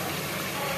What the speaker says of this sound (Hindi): अब जो है पानी डाल देंगे गोश्त गलाने के लिए।